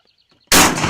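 A single sharp shotgun blast fired at a turkey during a hunt, bursting loud and close out of near silence after faint birdsong, then trailing off in a ringing echo.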